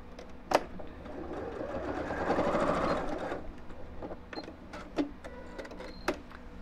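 A sewing machine runs in a steady buzzing burst for about three seconds while stitching a pearl bead handle purse, with a few sharp clicks and knocks of handling before and after, close by and otherwise quiet.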